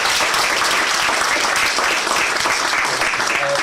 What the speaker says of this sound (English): Thank you very much,